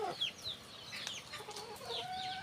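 Brahma chickens clucking and chattering steadily at a moderate distance on a farm, several birds overlapping, with occasional higher squawks over a constant outdoor background.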